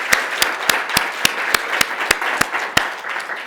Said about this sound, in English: I'd love to give them a round of applause for all that they do.